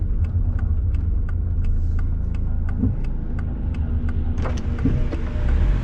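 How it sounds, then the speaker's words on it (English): Loud, steady low rumble and rushing wind noise from inside a moving car on the road, with faint regular ticking throughout. "Sorry about the wind noise."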